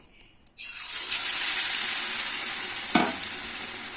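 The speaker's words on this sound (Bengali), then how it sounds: "আমার তেল গরম হয়ে গেছে, এবার আমি এই পকোড়াগুলো বেসনের মধ্যে ডুবিয়ে নিয়ে" Bread pakoras coated in gram flour batter dropped into hot oil, sending up a loud, close, continuous sizzle after a few quiet handling knocks, with a brief thump midway as another piece goes in.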